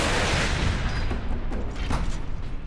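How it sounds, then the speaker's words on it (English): In the Space Marine video game, a missile launcher fires amid a dense battle din of blasts and gunfire, loud and continuous with rumbling booms throughout. "Missile launcher."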